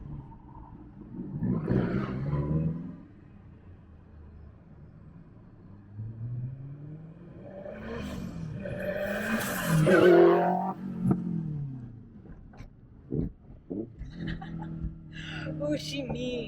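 A Lotus sports car passes nearby with a whining transmission as the engine roar swells and fades; voices talk before and after it goes by.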